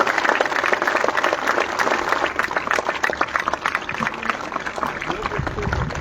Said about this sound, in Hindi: उनके लिए एक बार जोरदार तालियां बजाएं बेटा